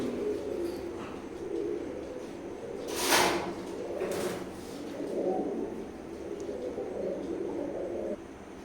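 Imported Teddy pigeons of Oman bloodline coo in repeated low, throaty bouts close by, with a couple of brief sharp knocks between calls.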